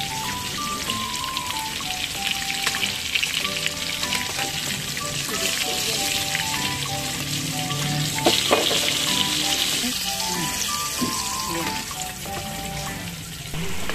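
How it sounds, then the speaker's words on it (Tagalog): Eggplant omelette and fish sizzle in oil in separate pans at a Filipino eatery kitchen, a steady loud crackling fry that runs unbroken with bright spatter throughout. "Habang nagprito tayo ng talong ay nagprito naman tayo ng isda dito sa kabila."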